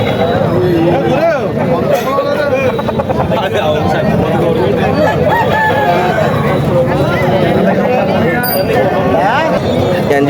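A rooster crows amid a noisy crowd of chatter and clucking chickens at a village country-chicken market, voices babbling close by throughout.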